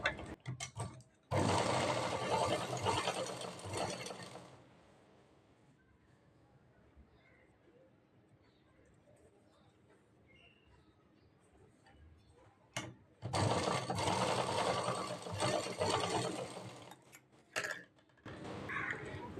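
A sewing machine stitches a blouse neck band in two loud bursts of fast mechanical whirring, separated by a quiet pause with light handling and a voice speaking.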